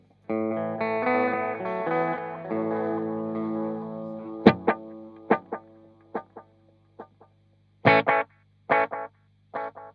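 Distorted guitar notes ring out through a tape echo with playback heads 1 and 4 on, short plucked stabs repeating in a doubled, slapping pattern of echoes.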